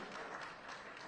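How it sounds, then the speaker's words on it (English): A crowd applauds for an environmental youth group exhibitor at the closing ceremony of a national water and environment week in Uganda; steady, dense clapping fills the whole short stretch at moderate distance. "Big round of applause for Youth Go Green, Edwin."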